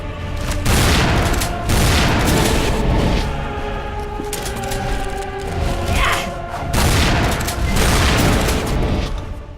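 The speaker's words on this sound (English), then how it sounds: "I can give the shotgun a go, maybe that might help." Loud, repeated blasts of a shotgun fired during a boss fight in Tomb Raider Anniversary, several heavy booming shots spaced across the stretch with no talking.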